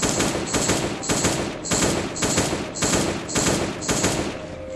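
Rapid bursts of AK rifle fire from the mobile survival game Last Day on Earth, about eight loud, evenly spaced bursts repeating steadily, with no one talking.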